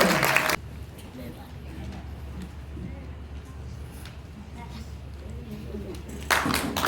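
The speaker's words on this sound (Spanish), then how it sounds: "Aplausos." A short burst of audience clapping opens the stretch and another returns at the very end, at a Christmas story-contest award event, with a low steady hum and murmuring voices in between.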